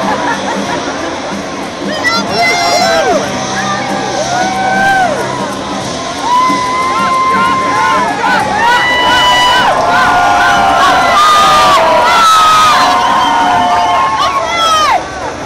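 Large crowd gathered in an airport hangar for a political rally, a loud sustained hubbub of many voices with whoops, shouts and rising cheers throughout.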